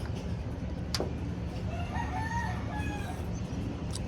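A rooster crows among gamefowl breeders kept on a farm, a moderately distant drawn-out call heard over steady background noise, with other fowl faintly clucking and no talking.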